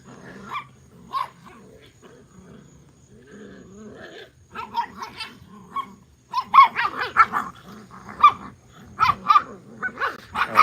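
Several Brittany puppies bark and yip while playing at a kennel, sparse at first then growing louder and more frequent, with overlapping high-pitched yaps.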